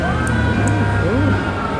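Ambulance siren wailing outside a Comic Con gathering at an art gallery, its rising and falling tones clear and fairly close, sweeping past over a steady low rumble with a voice or two murmuring in the background.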